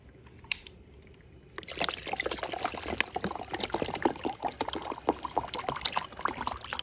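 Coffee trickling from a Coleman Quick Pot coffee maker, a steady close liquid stream that starts after a brief quiet moment with a single click, then runs continuously and evenly, with no talking.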